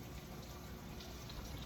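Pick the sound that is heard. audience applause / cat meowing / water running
water running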